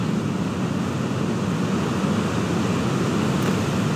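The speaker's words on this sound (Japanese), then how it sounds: "ちょっと海の音うるさいですか" Ocean waves breaking on the Namitachi coast near Benten Island in Iwaki, Fukushima, as a steady, loud, close wash of surf with a constant low roar and no break, heard alone without talk.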